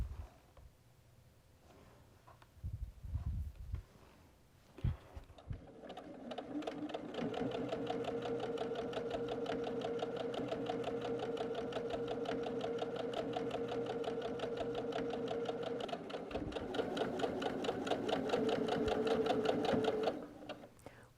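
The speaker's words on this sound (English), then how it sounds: "Once we sew that bottom edge, we're going to press a crease across the top and top stitch through the top of it." Sewing machine top-stitching a canvas tote bag runs in a steady, continuous whir for about fifteen seconds, after a few soft handling thumps at the start, with no talking.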